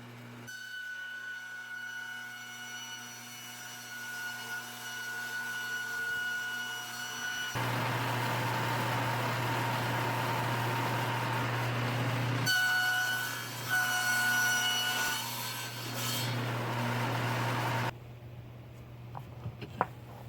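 A table saw cuts cement board: a steady motor whine with a low hum, then two long stretches of loud, harsh grinding as the blade bites through the board, before it winds down to near silence.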